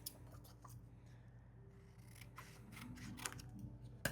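Scissors snip through paper for a journaling page in a quiet room, a few soft scattered cuts building to a sharp, louder closing snip at the very end.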